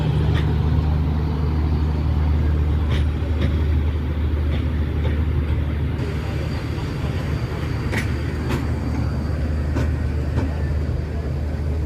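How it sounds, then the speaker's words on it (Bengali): The Chattala Express rolls into the station platform with a steady, loud rumble of wheels and carriage noise, faint rhythmic rail clicks over the constant low roar. "চট্টনা এক্সপ্রেস অল্প সময়ের মধ্যেই চার নম্বর লাইনে এসে দাঁড়াবে"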